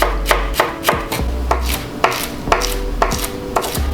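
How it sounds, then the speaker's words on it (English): A knife chops green onions on a cutting board in about eight sharp, evenly spaced strikes, close and clear, with no talking. "we can chop up some of the green onions using that same cutting board"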